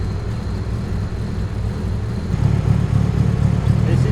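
A car engine idles with the air conditioning switched off, a steady low rumble that deepens and grows a little louder partway through.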